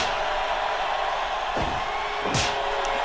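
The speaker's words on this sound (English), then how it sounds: "You can hear the crowd chanting away." A dense wrestling arena crowd roars in a steady wash of noise at a live match, with a couple of brief sharp swells and shouts rising above the sustained din.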